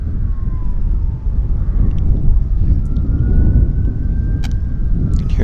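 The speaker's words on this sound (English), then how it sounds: "You can hear the sirens going." A siren wails faintly in the distance, a thin rising and falling tone above loud, rumbling wind and traffic noise near Vancouver International Airport.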